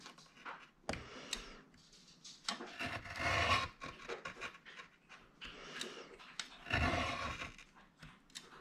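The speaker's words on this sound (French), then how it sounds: "Je vais couper ce morceau avec le cutter" A paper card for a simple pop-up card project cut with a craft knife, several rasping scrapes and short drags of the blade, some near and louder, separated by brief pauses.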